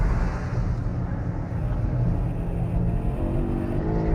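A Porsche GT3 sports car engine drones continuously at a steady pitch, fairly loud and close, with a slight rise in tone toward the end.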